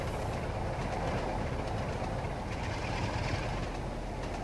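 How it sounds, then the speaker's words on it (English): A short commuter train rolls past in a railway simulation game, a steady loud rumble of wheels on track with faint rhythmic clatter throughout. "Another short commuter train."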